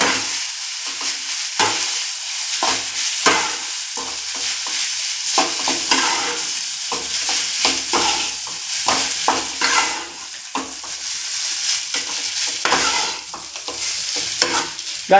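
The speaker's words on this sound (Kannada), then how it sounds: "ಈ ಥರ ಮೇಲೆ ತೆಳಗೆ ಹಾಕಿ ಮಿಕ್ಸ್ ಮಾಡಬೇಕು." Rice being stirred and tossed with puliyogare masala in a pan, giving a steady run of scraping, clattering stirs over a soft sizzle, close and fairly loud, with no talking.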